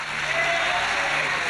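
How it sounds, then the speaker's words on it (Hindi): An audience claps during a Bhagwat katha discourse in Mumbai, a steady, moderately loud burst of applause that lasts the whole short stretch. "आप लोगों की ताली नहीं सुननी है"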